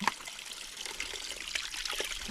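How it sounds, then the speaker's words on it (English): A small Appalachian stream trickles steadily nearby, a continuous light babble of water with faint splashes, no voices. "there's a little stream."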